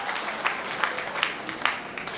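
Moderate audience applause during a talk, a continuous patter of many hands with periodic sharper claps standing out, fairly even in level and somewhat distant.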